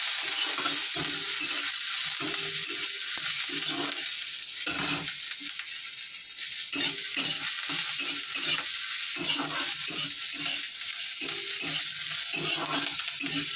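Whole green chillies and garlic stir-fry in hot oil in a pan, a steady loud sizzle throughout with intermittent scraping stirs.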